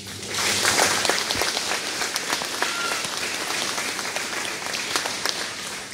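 An audience claps steadily for student leaders at a primary school ceremony, a dense, continuous applause that starts quickly and holds for several seconds with scattered louder claps.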